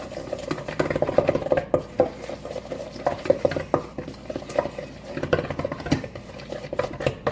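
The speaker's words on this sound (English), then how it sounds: "So I'm going to stir this all up." A spoon stirs a baking mixture in a bowl, making continuous close scraping and soft clinking in an uneven rhythm, with small taps against the sides.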